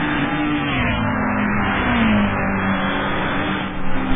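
A Xanavi Nismo race car engine drones loud and steady, its pitch sliding and rising as it revs, with a brief flurry of harsher bursts near the end.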